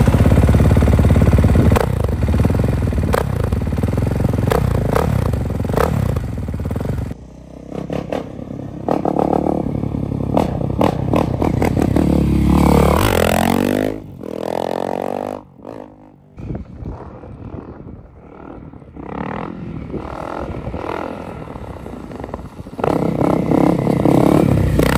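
A cheap 130-euro FMF motorized bicycle engine ridden outdoors buzzes loudly and close, revving up and down with rattling clatter, dropping briefly mid-ride before roaring back to a steady high-pitched drone.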